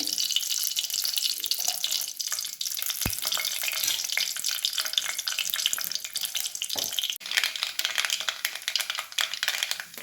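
Mustard seeds fry in hot oil for a Karnataka bassaru and palya dish, a continuous crackling sizzle with dense spattering pops, steady and close for the whole stretch, with one sharp knock partway through.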